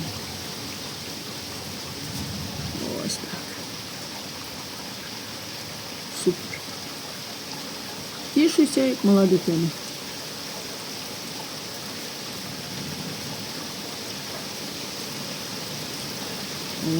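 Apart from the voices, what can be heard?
rain falling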